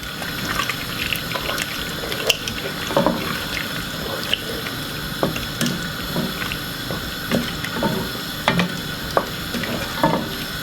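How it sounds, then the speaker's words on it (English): Milk is stirred into a macaroni and cheese sauce in a pan, with steady wet sloshing, light sizzling and frequent clinks of a utensil against the pot, heard close. "Take a little time and just keep adding the milk to it, just like this."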